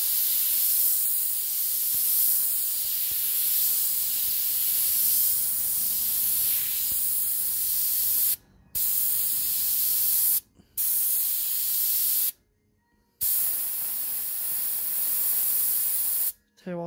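An airbrush sprays paint for shading, a close, steady hiss that runs in long passes and cuts off briefly several times near the end before resuming.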